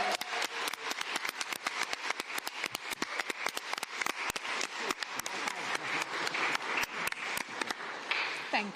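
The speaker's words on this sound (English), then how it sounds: "I just think that deserves another round of applause" Sustained applause from the audience at a fundraising event for Ukraine, a steady dense patter of many hands clapping at moderate distance, continuing without pause.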